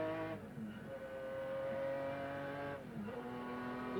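A BMW-engined McLaren racing car in a Gran Turismo endurance race at Curitiba or Brasília howls as it accelerates, its engine note climbing through gears with a brief dip at each upshift, loud and continuous.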